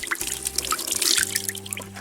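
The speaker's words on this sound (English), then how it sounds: "gravity style water faucet. You pour water in there, and that's how you wash your hands." Water trickles and drips from a gravity-fed hand-washing faucet, filled by pouring, in a Ukrainian village garden: a close, continuous patter of drops with a faint low hum underneath.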